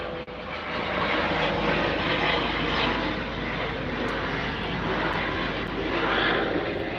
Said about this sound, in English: Is that a news chopper?